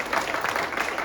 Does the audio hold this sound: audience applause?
yes